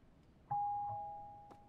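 Doorbell chime at a front door during a midnight package delivery: a single electronic tone starts sharply, holds steady and slowly fades, with a second fainter tone joining, alone and fairly quiet.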